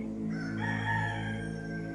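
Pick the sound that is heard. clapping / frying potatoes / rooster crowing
rooster crowing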